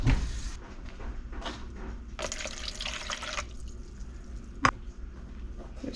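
Water, measured out at 1.5 cups, runs into a mixing bowl for cinnamon roll dough. The splashing and trickling is fairly faint and close, rising in brief bursts, with one sharp knock near the end.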